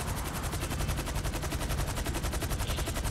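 Rapid automatic gunfire in Grand Theft Auto V, a dense stream of evenly spaced shots fired continuously and close by.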